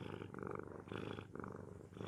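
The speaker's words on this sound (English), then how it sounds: "People can hear you purr into this mic." A cat purrs loudly right against a microphone, a close, rumbling purr swelling and easing in a steady rhythm of several breaths, heard alone without any talk.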